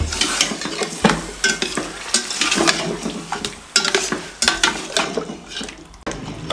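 Chicken pieces with masala fry in a small amount of oil for tandoori-style chicken, a loud close sizzle broken by repeated scraping stirs of a spatula against the pan.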